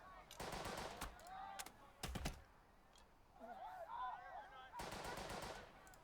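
An MG team's machine gun firing in the wartime tactics game Burden of Command, heard as several short rattling bursts separated by brief pauses. Quieter game effects play between the bursts.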